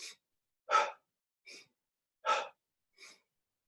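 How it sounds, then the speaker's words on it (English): Alternating breaths through the nostrils during a mindful movement meditation: five separate soft airy puffs, with stronger exhales and lighter inhales taking turns, close and quiet against silence. "we would then blow the air out and inhale on the other side."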